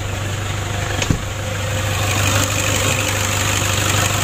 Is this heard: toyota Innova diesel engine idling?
yes